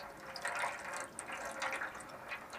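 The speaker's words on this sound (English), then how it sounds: "it's just oil-free water coming out of there at the moment." Water spurting and spattering from the drain valve of an air compressor tank, a steady hissing splash with uneven bursts that runs the whole time, close and moderately loud with no talk.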